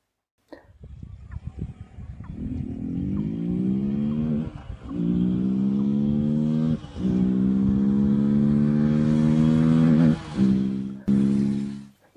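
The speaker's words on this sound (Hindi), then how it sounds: "चलिए सुनते हैं BMC एयर फिल्टर की साउंड।" Bajaj Pulsar RS200 motorcycle fitted with a BMC air filter starts and revs repeatedly, each rise climbing in pitch then dropping back, close and loud with brief pauses between revs.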